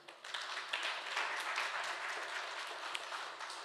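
A church congregation applauds in a dense, sustained burst of many clapping hands that starts abruptly and holds steady throughout.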